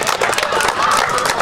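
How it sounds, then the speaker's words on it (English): Families applauding youth football players at the Crown City Classic tournament: a brief, loud burst of dense clapping and cheering, with voices mixed in. "Face your families and give them a round of applause."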